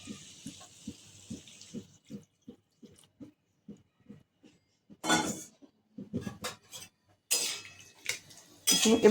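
Rhythmic scraping of a utensil stirring potatoes in a pan for a poppy seed dish, soft repeated strokes, followed by louder clattering and sizzling bursts.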